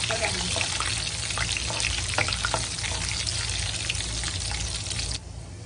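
Garlic cloves and chilies frying in hot oil for a dal tempering in a Hyderabadi khatti dal recipe, a close, steady sizzle and crackle with small pops that drops suddenly near the end.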